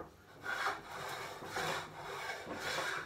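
A rebate plane pushed along timber: three soft, rhythmic rasping strokes, each a short swell of shaving noise close by, with no voices.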